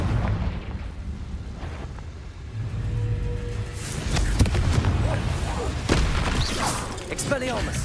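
Confringo blasting spells in Hogwarts Legacy, cast while fighting through a maze: several loud booming explosions land in quick succession over a rumbling background of combat, with some voice mixed in.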